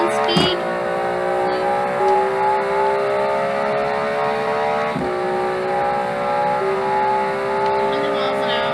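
A 1000cc seven-speed track car in the Automation racing game accelerates hard. Its buzzing engine note climbs and drops back at each gear change in a steady rhythm.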